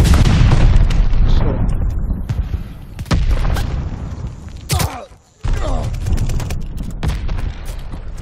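A stun grenade goes off in a multiplayer shooter game, a loud booming burst amid ongoing gunfire and explosions, followed by a brief drop and more blasts; voices talk over the action.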